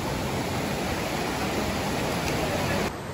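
Water from a waterfall rushes and pours in a steady, dense hiss, close and loud throughout, dropping slightly just before the end.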